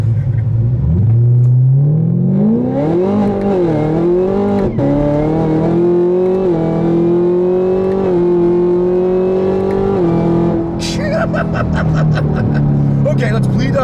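A 2017 Camaro ZL1 engine rumbles loudly from inside the car while driving, its deep tone climbing steadily as it accelerates and then easing as speed bleeds off, with a brief burst of higher noise near the end.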